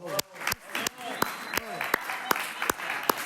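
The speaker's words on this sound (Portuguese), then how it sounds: "palmas para o Rafael." Small class or group clapping, a handful of sharp, separate claps at an irregular pace with voices talking and laughing between them.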